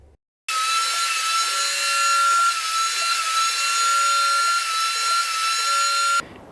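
A CNC router bores 5mm shelf pin holes in cabinet wood, a steady loud high spindle whine with cutting noise running continuously for about six seconds, with brief lower tones recurring as holes are drilled, then stopping abruptly.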